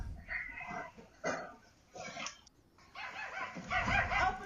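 A small Yorkie dog yips and barks in short bursts, several sharp yaps spread across the moment with brief pauses, fairly close and moderately loud.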